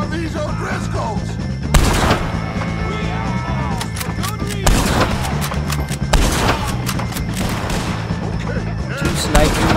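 Gunfire in Red Dead Redemption 2 during a shootout with O'Driscoll gang members, several loud sharp bursts of shots a few seconds apart, close and echoing, with voices calling out between them.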